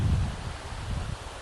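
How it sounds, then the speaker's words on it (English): Gusty wind buffeting a phone microphone outdoors, low rumbling bursts that are strongest at the start, then a steadier rustling roar close to the mic. "today is very windy"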